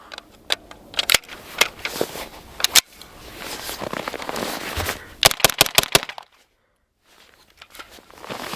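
Winchester 115 grain White Box ammunition is fired cold in a run of loud, sharp gunshots, some in quick clusters, then a short silence before more shots.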